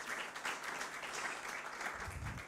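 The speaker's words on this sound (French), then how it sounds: "On peut effectivement applaudir nos 5 intervenants." A round-table audience applauds five panelists at a conference on social economy and sustainable mobility; soft, fairly distant clapping, sustained and even throughout.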